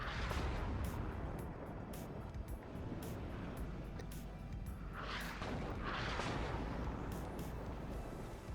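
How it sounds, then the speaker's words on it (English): Artillery fire in the real-time strategy game WARNO. A dense, continuous rumble carries repeated distant booms and crackling impacts. "Good use of artillery by Tanner."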